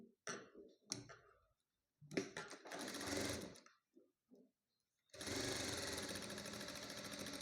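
A sewing machine stitches a blouse neckline in short stop-start bursts, a few brief runs followed by a longer, steady whirring stretch at close range, with small clicks in between and no talk.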